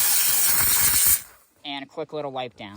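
Steam cleaner hissing loudly on a car's left dashboard area for about a second, then cutting off as a person speaks briefly.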